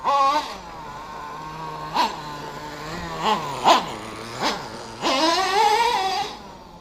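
Traxxas T-Maxx 3.3 nitro RC truck engine at half throttle, a buzzing high-pitched whine that rises in several sharp revving bursts and holds a longer climb near the end, loud and close with no talk.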